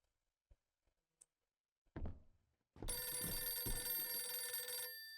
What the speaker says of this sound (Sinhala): එලාමයක් නෙමෙයි ෆෝන් එකකින් එන